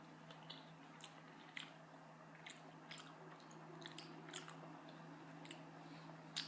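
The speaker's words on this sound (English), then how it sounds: "Sorry for the chewing noise" Soft, wet chewing of Taco Bell food with occasional crunchy bites, close to the microphone over a steady low hum.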